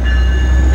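A passing train at Fullerton, with BNSF, Amtrak or Metrolink equipment running through, rumbles loud and steady and close by. Sustained high tones ring above the rumble like squealing wheels.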